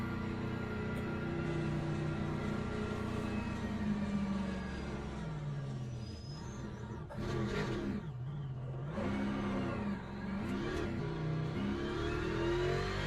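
A Ford race car engine in Le Mans Ultimate, loud and close, holding a steady high drone, then dropping and rising again in revving swells through gear changes, with no talk.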